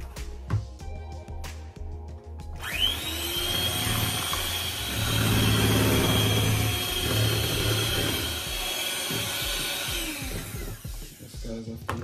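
An electric mixer whirs into coconut cake batter after flour is added, starting with clicks and then spinning up into a steady, buzzing drone that gradually slows and fades at the end.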